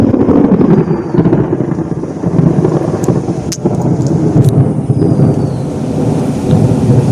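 Thunderstorm moving in with steady heavy rain roaring close by, punctuated by a few sharp cracks of thunder and lightning strikes throughout.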